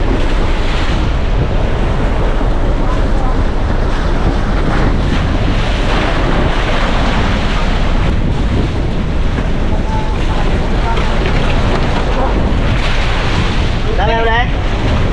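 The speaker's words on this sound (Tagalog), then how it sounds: "lumalakas ang hangin at naglalaki-lakihan na ng alon" Strong wind and building waves at sea heard from a boat, a loud, constant roar of gusting wind and surging water battering the microphone, with faint voices buried beneath.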